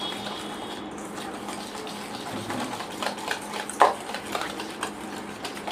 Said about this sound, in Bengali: আমি চিনি এবং খাওয়া তেলটাকে ভালো করে মিশিয়ে নিচ্ছি